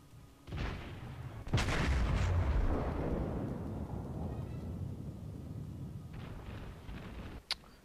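Warship guns firing in World of Warships: a loud booming salvo swells into a long rumbling roar that slowly fades, with a fainter blast near the end and a brief sharp pop closing it, no talk.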